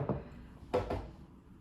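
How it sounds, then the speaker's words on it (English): Knuckles knock on a wooden floor with three dull, close raps: one single tap, then a quick pair, with nothing else around them. "Touch wood, knock on wood."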